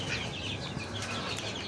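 A hen clucks on a farm while laying eggs, a short burst of soft repeated clucks close by against steady background noise.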